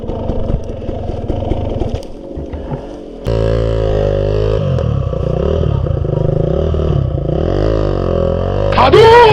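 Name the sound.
enduro motorcycle riding on a trail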